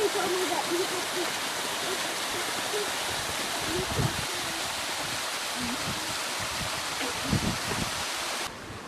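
Waterfall in the Blue Mountains, Australia, rushing as a broad steady wash of water noise, with faint voices murmuring in the background.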